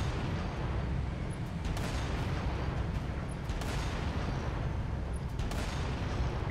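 Continuous weapon fire and explosive booms in the video game Halo Reach, a dense roaring barrage with repeated thuds rising out of a constant battle noise.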